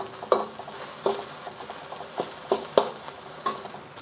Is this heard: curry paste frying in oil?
yes